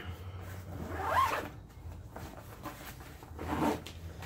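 A zipper on a hidden strap compartment of an Osprey Farpoint 55 travel backpack is pulled open in two close, quiet rasping strokes with a short pause between them.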